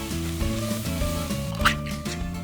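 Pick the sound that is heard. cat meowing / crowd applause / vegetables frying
vegetables frying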